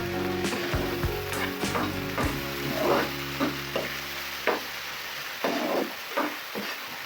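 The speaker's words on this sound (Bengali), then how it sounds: "আমি এখন মশলাগুলো কষিয়ে নিচ্ছি।" Spices sautéing in a pan for a Chattogram-style loitta fish curry: a continuous sizzle with irregular spoon scrapes and knocks against the pan, close and moderately loud.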